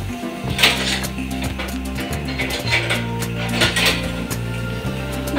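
A ladle and other metal cooking utensils clatter against pots and dishes in a home kitchen during ladoo preparation, with repeated close clinks and scrapes over a low steady hum.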